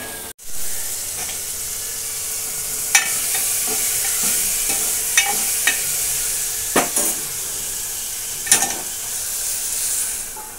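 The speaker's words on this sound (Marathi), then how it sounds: "छोलेसाठी मी बघा कांदा टॅमॅटो मस्त फ्राय करते, अजून टॅमॅटो आहे आणि चांगलं फ्राय करणार" Onion and tomato fry in a pan for chole, giving a steady, bright hissing sizzle close up, with a few scattered scrapes of a stirring spoon. No voices are heard.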